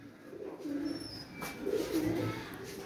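Pigeons in a pigeon room give a few soft, low coos, fairly faint, over a quiet background.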